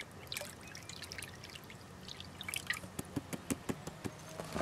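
Clean water is poured into a gold prospecting pan at Coolgardie, with a soft running trickle building into a series of distinct close drips and splashes toward the end.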